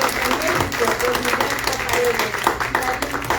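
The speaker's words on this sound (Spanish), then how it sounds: "Un aplauso, por favor, para los invitados" Audience applauding guests after a talk by a Mexican journalist at a conference, steady dense clapping throughout with voices mixed in underneath.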